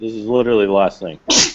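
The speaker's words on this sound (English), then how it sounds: "Me sneezing." A single sharp sneeze bursts out right after a short stretch of close-up speech.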